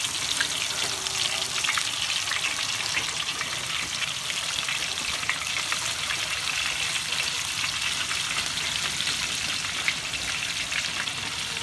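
Banana chips deep-frying in oil crackle and sizzle continuously at close range, a steady dense bubbling with fine popping throughout.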